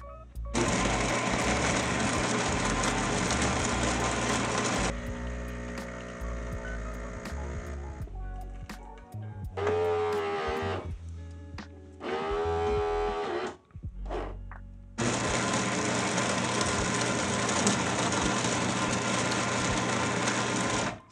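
Terra Kaffe TK-01 espresso machine brewing a double shot as two back-to-back single doses: a loud, steady pump whine and buzz that stops, resumes in short bursts with rising tonal whirs, then runs again at full volume, close by.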